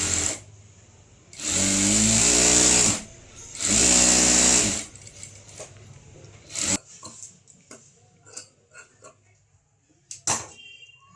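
A sewing machine joins a blouse sleeve in two loud, close bursts of rapid stitching, each about one to two seconds long, followed by quiet handling and rustling of fabric.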